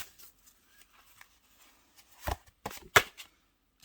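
Tarot cards being shuffled and handled at close range during a reading, with soft rustles and flicks building to a few sharp snaps and slaps as a card is drawn, no voices.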